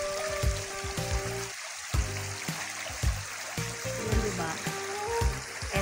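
Spring water flows steadily in a mountain stream, a continuous trickling rush with faint clinks and knocks scattered through it.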